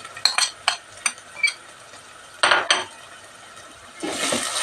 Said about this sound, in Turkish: Bir de onunla şöyle karıştırayım.